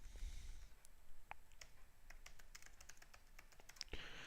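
Quiet typing on a computer keyboard, a run of light rapid key clicks close by over a low hum, no voices.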